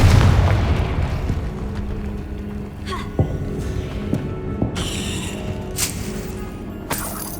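Confringo fire spell explosions in Hogwarts Legacy go off as several sharp booming bursts, spaced a second or so apart, over a steady bed of game ambience.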